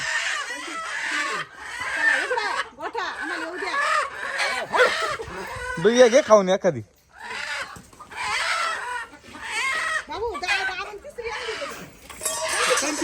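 Chickens cluck and squawk close by amid several people talking over them, with a louder burst of agitated bird calls partway through.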